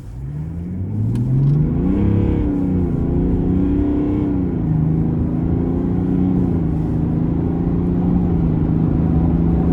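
A 2025 GMC Sierra 1500 SLE Duramax diesel pickup accelerates hard, its engine droning loud and close with a rising, shifting pitch and a steady rumble throughout.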